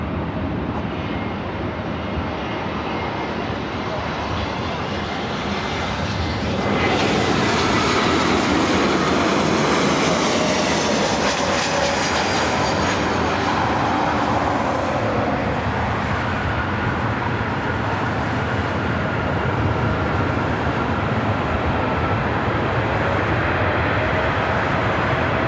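A jet airplane at LAX roars loud and steady, its broadband rumble swelling about a quarter of the way in and holding as it passes close.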